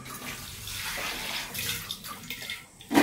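Water poured over hot boiled eggs in a home kitchen: a splashing, uneven gush of water, moderately close, with a sharp clink at the end.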